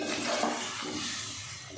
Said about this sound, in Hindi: अब हम इसमें आधा कप पानी का डाल देते हैं